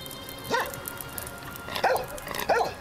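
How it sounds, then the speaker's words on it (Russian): A dog barks three times at moderate distance, one sharp bark followed by two more after a pause, over a quiet background. "Сквозь приоткрытое окно Валентина Петровна услышала, как залаял дворовый пес"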